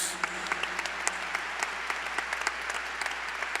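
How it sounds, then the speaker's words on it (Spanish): A church congregation claps steadily for God during a morning service, a dense wash of applause from many hands with scattered sharper claps standing out. "yo creo que le podemos dar un mejor aplauso esta mañana a Dios"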